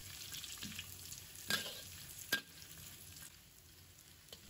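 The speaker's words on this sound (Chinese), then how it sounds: "把胡萝卜炒至断生，然后把芥菜梗，再把叶子放入来，把它炒软。" Carrots stir-fried in a wok with ginger and garlic, mustard greens about to go in: a steady, fairly faint sizzle with scraping stirs and two sharper clanks of the spatula, no voices.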